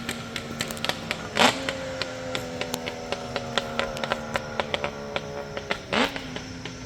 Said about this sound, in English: High performance 3-cylinder 2-stroke. Very nice sounding bike.